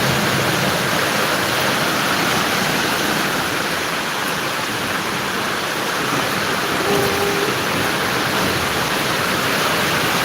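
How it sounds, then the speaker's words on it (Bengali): A dense, unbroken roar of heavy rain, with strong wind gusting through it, fills the air at Jiri Bazar. The sound stays loud and steady throughout, with no voices. "প্রচণ্ড বৃষ্টি"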